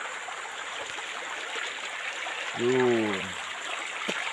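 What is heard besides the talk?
mountain stream water flowing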